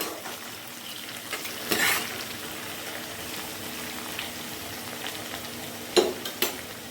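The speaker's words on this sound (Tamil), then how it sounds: "இது இப்போ போட்டது நம்ம சேர்த்தது எல்லாமே நல்லா ஃப்ரை ஆகணும்" Chopped curry leaves and spices sizzle and fry in hot oil for a fish pickle, a steady low crackle with a few sharper stirring clinks, close and without talk.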